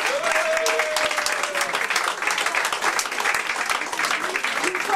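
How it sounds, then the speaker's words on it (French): An audience at a live performance bursts into loud, sustained applause to call the artist on stage, dense continuous clapping filling the whole stretch, with voices faintly mixed in. "applaudissez pour appeler l'artiste"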